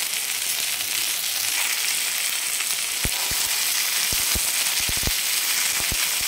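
Amaranth greens fry on a hot iron griddle with a loud, steady sizzling hiss throughout, punctuated by sharp crackling pops and scattered spatters.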